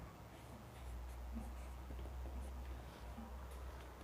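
Pen writing out a maths solution on paper, a faint, continuous scratching with small rhythmic strokes, quiet and close, with no talk over it.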